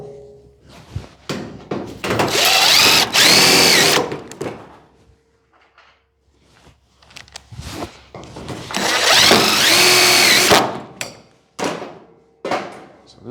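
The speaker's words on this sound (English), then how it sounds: "Let's get some screws in here." A power drill drives screws into the body of a 1940 Ford-inspired car in two sustained whining bursts, with thunks, taps and tool handling in the quieter gaps between.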